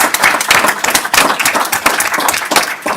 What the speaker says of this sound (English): you also deserve a round of applause for having amazing students